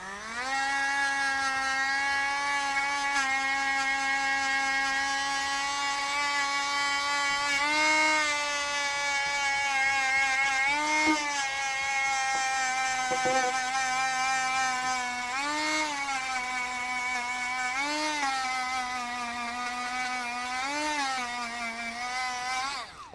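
Dremel rotary tool spinning a felt polishing pad against a block of beeswax gives a steady, close, high electric whine, with several brief dips in pitch as the pad is pressed and loaded; no talking.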